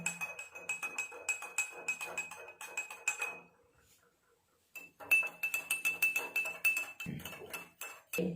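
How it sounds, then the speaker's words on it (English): A metal spoon stirring sugar and salt into glasses of water, giving rapid repeated clinks against the glass, close and bright, a brief pause, then another fast run of tinkling stirs with a duller knock near the end. "I am using same spoon, and I am stirring it."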